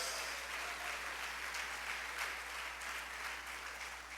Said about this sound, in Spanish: Dale ese aplauso a la gloria de Dios.